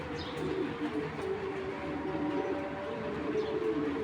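A female Python racing pigeon coos softly in a low, continuous murmur. It sounds faint and somewhat distant under steady background noise, with an occasional higher chirp.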